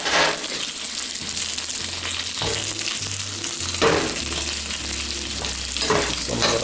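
A steak sizzles steadily in a pan of bacon fat with onion, giving a loud, continuous crackling hiss broken by a few louder spits and scrapes as it is turned.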